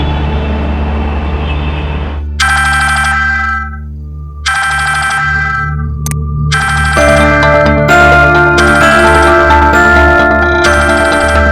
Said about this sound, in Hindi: सोना इतनी रात को फोन क्यों कर रही है?